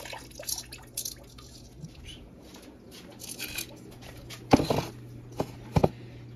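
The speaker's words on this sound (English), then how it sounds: "Let me dump some of these water out." Water is poured and dumped out of a trap after a catch, giving scattered drips and splashes with a couple of louder sloshing bursts toward the end, close by and without talk.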